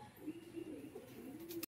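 Patta breed pigeons cooing nearby, a soft low repeated murmur over a quiet background with no one talking.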